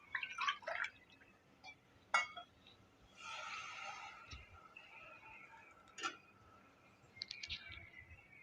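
Water is poured into a pot of basmati rice that has been soaked for ten minutes, for a one-pot kuska. Soft trickling and a few light drips and clinks are heard, faint and close, with no talking.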